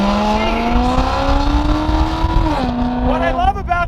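A matte black car with red interior accelerating hard in sport mode on a test drive, its engine note rising steadily in pitch, dropping briefly at a gear change, then climbing again, loud from inside the cabin.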